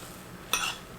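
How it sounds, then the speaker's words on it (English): A utensil stirring a summer side dish in a pan before cheese is added, a single short metallic clink and scrape in an otherwise quiet kitchen. "I'm gonna give them a little stir"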